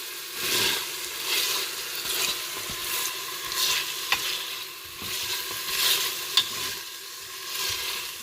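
Whole bell peppers sizzle and crackle in hot oil in a Cookeo multicooker pot while a utensil stirs them in repeated scraping sweeps, with a couple of sharper clicks against the pot.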